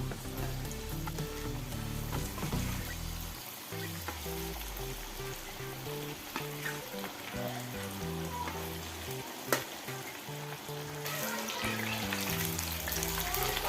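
Chicken pieces fry in hot oil for a chilli chicken dish, a dense, steady sizzle and crackle that continues throughout with occasional stirring scrapes.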